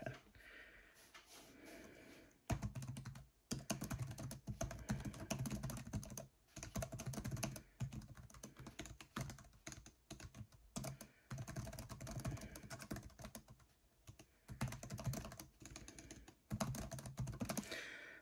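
Fast, continuous typing on a Lenovo 500w laptop keyboard close to the mic, with short pauses between bursts of light, rapid key clicks.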